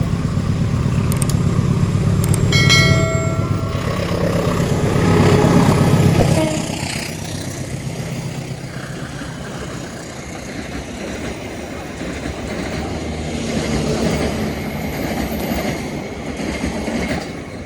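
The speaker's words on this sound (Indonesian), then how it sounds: "ini Ijen Express persiapan melintas langsung teman-teman" The Ijen Express, pulled by a red-and-blue locomotive, passes straight through a forest station with a loud rushing roar and wheel clatter, a few sharp horn-like tones early on, then fading to steady rail noise.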